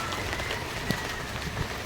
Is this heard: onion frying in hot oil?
no